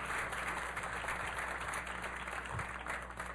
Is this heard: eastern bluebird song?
no